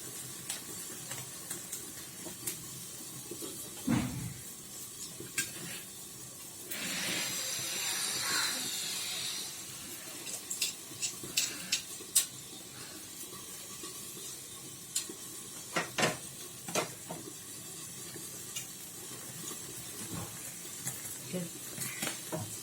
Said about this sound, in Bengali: আমি দেখুন বারবার আমি উল্টে পাল্টে দিচ্ছি, বারবার উল্টে পাল্টে দিলে